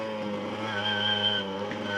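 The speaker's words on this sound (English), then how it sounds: "that exhaust is just screaming for its life." A small motorbike exhaust screams at full revs while riding at about 40 km/h, a loud, steady, high-pitched engine drone held throughout.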